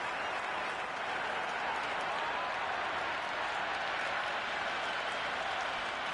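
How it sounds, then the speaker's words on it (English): Crowd at a cricket match before play begins, a steady wash of distant applause and cheering that holds even throughout, with faint talk mixed in. "already the crowd is up and about"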